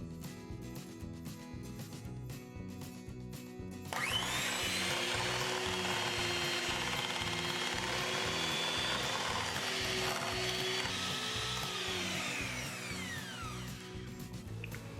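An electric mixer blends cheesecake tart filling with heavy whipping cream, a whining motor hum that switches on abruptly, runs steadily for several seconds near the microphone, then winds down, with faint mechanical rattling before it starts.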